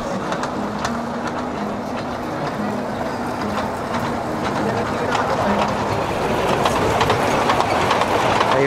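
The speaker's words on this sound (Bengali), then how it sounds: "মেলার ঠিক মাঝখানেই আছে এই টয় ট্রেন, যেটিতে বাচ্চা এবং বাচ্চার অভিভাবক দুজনেই উঠে চক্রাকার ট্রেন ভ্রমণ করতে পারেন" A ride-on toy train circles its track at the Gazipur small and cottage industries trade fair, running steadily under a dense, constant fairground crowd hubbub with voices throughout.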